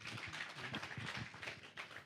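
A round of applause from the audience at a Rivonia Trial 60th anniversary commemoration, a steady faint patter of many hands clapping at a distance, with no voices over it.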